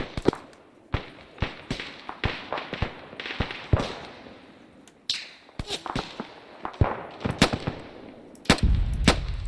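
Enemy gunfire in Arma 3 in a modern military operation: a steady run of sharp, separate shots at irregular spacing, some close and loud, others duller and farther off, with a heavier rumbling burst near the end.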